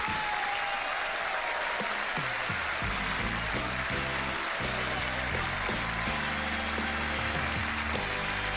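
A studio audience on a television game show bursts into sustained, dense applause after a juggling act, with some scattered sharper claps over the even crowd noise.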